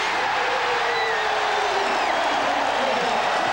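A packed arena crowd cheers and roars steadily at a 1994 Eastern Conference Finals Game 7 between the Pacers and Knicks in New York, a dense continuous wall of noise with no clear breaks.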